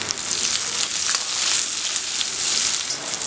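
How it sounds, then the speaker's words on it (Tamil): Shallots, green chillies and curry leaves sauté in a hot pan for a Chettinad crab gravy, giving a steady, close sizzling hiss with light crackles throughout. "மூணு பச்சை மிளகாய் ஒரு கொத்து கருவேப்பிலை சேர்த்துட்டு நல்லா வதக்கி விட்டுக்கோங்க"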